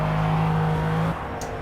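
McLaren F1 race car engine in Project CARS at Le Mans, a loud steady droning tone held at constant pitch that cuts off abruptly near the end, leaving a softer rumble with no voices.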